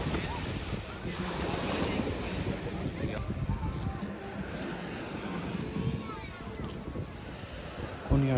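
Waves wash over the pebble shore of Konyaalti beach in Türkiye, a steady broadband rush of surf with heavy wind buffeting the microphone, continuous and fairly loud with no talking.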